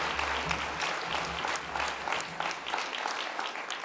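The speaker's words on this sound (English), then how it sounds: "would you give Charlotte McLennan and Wendy Tilden a warm round of applause?" Warm audience applause for two presenters at an innovation week pitch event, a dense, sustained roar of many hands clapping, loud and continuous throughout with a low hum underneath.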